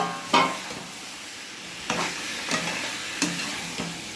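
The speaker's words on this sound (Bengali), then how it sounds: "একই সঙ্গে আমি মাংসগুলো দিয়ে আমি ভালোভাবে কষে নেব" Marinated chicken pieces sizzle in a pan on high to medium heat, a low steady fry under several distinct scraping stirs spaced about a second apart.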